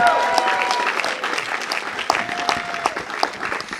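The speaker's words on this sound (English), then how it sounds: "So please give Tania a big, huge round of applause." An audience at a comedy roast and tribute evening breaks into warm applause, with clear individual claps over a dense crowd layer that gradually thins out.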